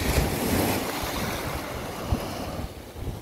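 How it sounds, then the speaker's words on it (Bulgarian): Sea waves wash onto the south beach at Kiten on the Bulgarian coast on a gloomy, drizzly day, a steady broadband surf roar mixed with wind noise on the microphone. "Ето го нашето море."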